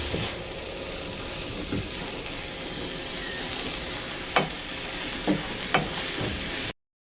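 Papaya sautéing in a pan, a steady loud sizzle of frying with a few sharp stirring clacks and scrapes near the end, no voices.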